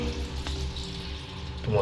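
Water runs steadily into an old toilet tank being refilled after a flush valve repair, a continuous close hiss and trickle with a low hum underneath.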